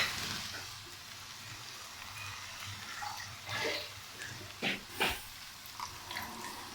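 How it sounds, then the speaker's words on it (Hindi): A hot pan of frying black lentils (daal maash) sizzles steadily while two to three tablespoons of water are splashed in, bringing a few sharp hissing bursts and soft clatters. "चलो पानी थोड़ा सा शामिल कर दें"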